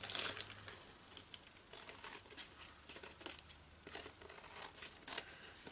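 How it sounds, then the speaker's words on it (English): Scissors snip around the edges of paper in a quiet room, with soft crinkling and cutting sounds coming in irregular bursts. "And trim around these edges so I know where I'm working."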